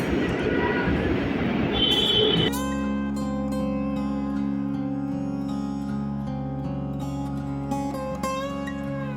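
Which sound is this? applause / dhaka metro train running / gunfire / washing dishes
dhaka metro train running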